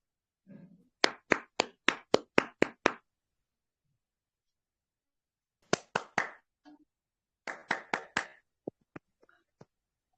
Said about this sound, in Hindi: तालियों के साथ संजय सर का स्वागत कीजिए